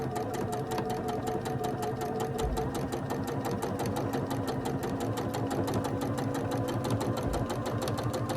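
Sewing machine running steadily as it stitches quarter-inch seams on quilt block pieces, a fast, even mechanical chatter with a brief pause or two, close and unbroken otherwise.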